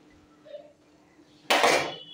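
A metal lid set down on a pot of sambar, a single sharp clatter after a quiet moment, close and loud, ringing briefly as it fades.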